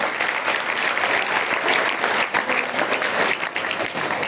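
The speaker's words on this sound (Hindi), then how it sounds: "एक बार चाहूंगा जोरदार तालियों से उनका स्वागत करें" An audience of students at an anti-drug awareness event breaks into loud, sustained applause welcoming a police officer, dense clapping filling the room throughout.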